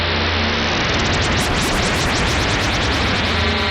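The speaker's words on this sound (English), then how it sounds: "If we add in some FM, we can get real noisy real quick." Harsh, noisy frequency-modulated texture from a Eurorack oscillator, a dense continuous wash of buzzing static with rapid warbling sweeps, loud and unbroken throughout.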